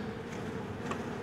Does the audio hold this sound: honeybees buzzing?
yes